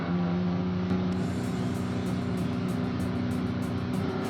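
Period racing cars, an MGB and a Ford Prefect, drone steadily on a circuit as one passes the other, a continuous nearby engine roar with no talk.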